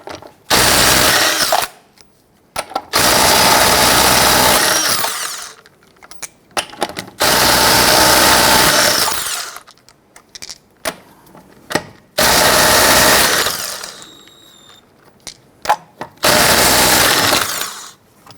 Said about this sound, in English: Using your 19mm socket, go ahead, loosen and remove the lug nuts